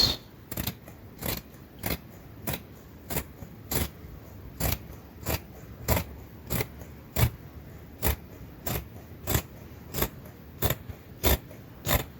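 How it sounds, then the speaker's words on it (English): Fabric shears cut out a waistband for a flare skirt with about twenty crisp, evenly spaced snips, close and clear, one roughly every half second, with no talking. "So I'll cut my band out."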